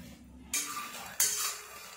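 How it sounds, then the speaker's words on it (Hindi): Fox nuts (makhana) roasting in a wok with a spoonful of oil. Two short, loud, rustling bursts sound close by, like the nuts being stirred or tossed against the metal, with a quieter scraping hiss between them. "अब हम इसमें मखाने भूनेंगे।"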